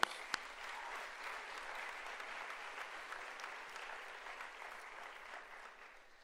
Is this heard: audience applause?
yes